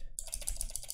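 Keys on a computer keyboard are tapped in a quick rhythmic run of light clicks, close and fairly quiet, lasting about a second.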